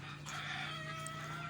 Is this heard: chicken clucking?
yes